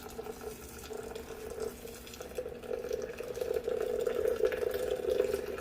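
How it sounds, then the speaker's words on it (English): Hot water at 205 degrees is poured onto freshly ground coffee in a French press, a steady, soft splashing trickle that grows gradually louder and fuller over several seconds, with no talking. "we're going to go ahead and pour in about 300 grams of hot water"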